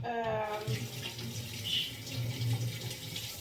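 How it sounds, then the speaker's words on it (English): Tap water runs steadily from a kitchen faucet into a sink as vegetables are rinsed for lasagna, a continuous close splashing wash with small shifts as the produce moves under the stream, with no talk over it. "So I'm gonna wash them a little bit because, yeah, of the bacteria."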